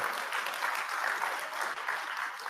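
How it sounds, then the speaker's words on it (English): An audience at the 2022 DIY Musician Conference breaks into applause, a full, even wash of many hands clapping together, sustained at a steady level for a couple of seconds. "you can clap for that"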